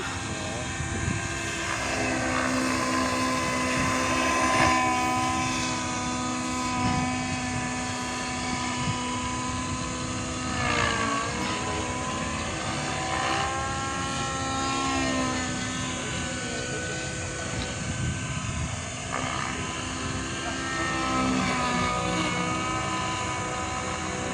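Helicopter flying over an open university field on a clear day, its steady rotor and engine drone holding constant and fairly loud throughout, with people talking faintly in the background.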